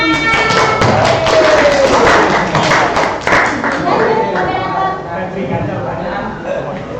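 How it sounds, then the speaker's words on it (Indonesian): Students in a classroom lesson applaud together, producing a dense, loud, steady patter of clapping that lasts throughout, with voices talking over it. "Tepuk tangan."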